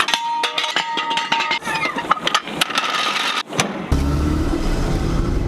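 A car with a freshly repaired transmission is lowered and driven off. Clanks and knocks at the start lead into a sudden loud, steady engine roar that carries on to the end.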